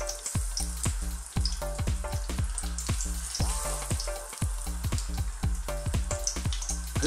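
Lamb and potato keema chops frying in a pan with a little oil, giving a steady close sizzle with regular crackling pops throughout and no talking.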